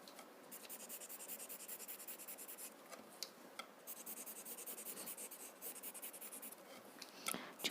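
A green chalk pencil drawn across paper during Zentangle art makes quiet, continuous scratchy strokes in short rhythmic bursts, close and alone, with a few sharper ticks.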